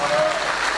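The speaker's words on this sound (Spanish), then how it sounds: "Fuerte ese aplauso" A brief burst of audience clapping after a chamber orchestra and choir performance, a dense, steady patter lasting under a second.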